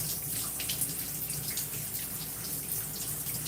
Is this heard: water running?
yes